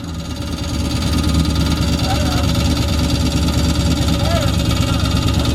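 A cammed Ram engine fires up and settles into a loud, steady, lumpy idle with a choppy low rumble throughout, close by, with a voice briefly heard over it.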